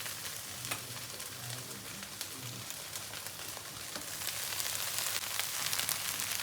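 White rice is being stirred into a fried egg mixture in a hot pan, a steady sizzling crackle with scraping stirs that grows slightly louder toward the end.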